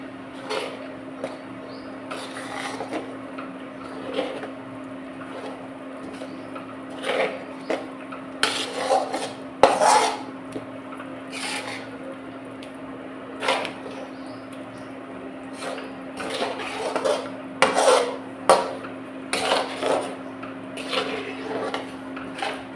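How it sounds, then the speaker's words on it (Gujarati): A spoon scrapes and knocks against a pan while urad flour is mixed into ghee, giving irregular clinks and scrapes over a steady kitchen hum. "પહેલાં તો બધે ઘીમાં મિક્સ કરી લઈએ લોટ"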